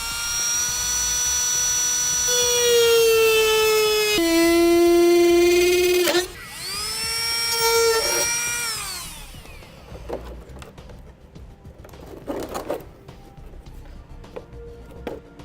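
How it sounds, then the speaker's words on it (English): A rotary tool trimming the air deflector panel on a 2015 Jeep Wrangler, a loud high whine that drops in pitch under load and rises again, then stops after about nine seconds, leaving faint handling clatter. "I'm going to use a rotary tool for this."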